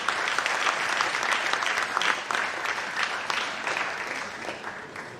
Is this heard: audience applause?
yes